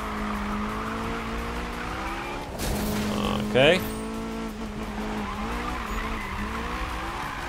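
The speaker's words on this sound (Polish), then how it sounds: "Zależy mi na tym, aby robić dość płynnie te drifty." Tires squeal and skid as a car drifts in Need for Speed (2015), with a steady engine roar running throughout and a sharper screech peaking midway, under a speaking voice.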